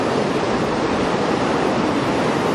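Steady ocean surf at Moonlight Beach washes in as a continuous broadband roar, loud and close, with a faint breath of wind and no voices.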